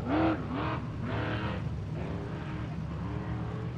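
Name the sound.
off-road race car roaring off the start line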